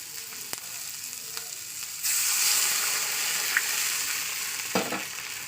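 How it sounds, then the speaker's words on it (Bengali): A little water poured into a pan of browned onions, the gentle fry suddenly bursting into a loud, bright hiss that stays strong and close to the end. "চলুন এই পর্যায়ে দিয়ে দেবো অল্প একটু জল।"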